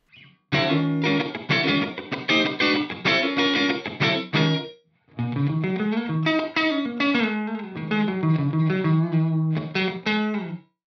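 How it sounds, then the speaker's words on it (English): Distorted electric guitar through an Axe-Fx III with a short room reverb plays chords and short riffs in two phrases, with a brief roomy ambience trailing each note; no talking. "this kind of sounds like a really short reverb"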